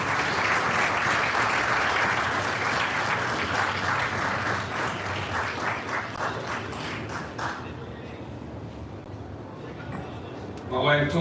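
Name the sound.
audience applause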